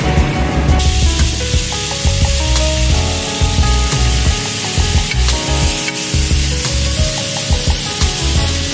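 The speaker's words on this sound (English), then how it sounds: "The last thing we're throwing is our mushrooms for pot roast." Mushrooms tossed into a hot pot roast pan, bursting into loud, continuous close sizzling and frying with stirring noises throughout.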